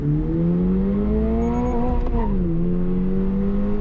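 A 2022 Toyota GR86 sports car accelerating hard from a standing launch with track mode off, the engine note climbing steadily and loudly, then dipping briefly at a gear change near the two-second mark before pulling again.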